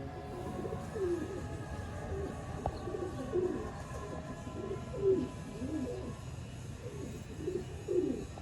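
Soft, low pigeon coos repeat every couple of seconds in a steady rhythm, fairly close, over a quiet background hum.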